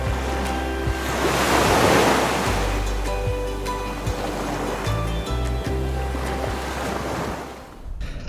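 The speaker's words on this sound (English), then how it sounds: "There's a pretty fresh breeze going on." Fresh breeze and breaking waves at sea off Thailand while under sail, a loud continuous surf wash with wind rumbling across the microphone and water rushing along the hull.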